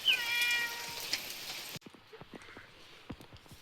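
A cat yowls loudly and repeatedly at close range during morning rain, with falling rain and scattered drips heard around it.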